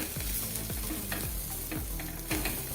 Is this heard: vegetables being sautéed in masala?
yes